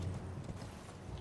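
A horse gallops in the video game Elden Ring, with steady rhythmic hoofbeats running through the whole short stretch at a moderate, even level.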